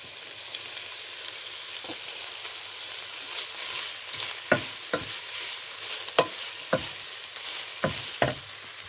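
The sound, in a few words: sautéing carrot and white cabbage vegetables in pan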